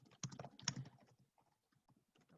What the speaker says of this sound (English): I'm typing furiously